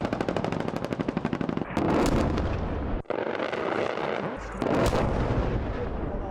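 Rapid machine-gun bursts and heavy artillery fire at the Efes 2024 military exercise in Turkey, loud and continuous, with a tight rattling burst followed by booming blasts and sustained roaring fire.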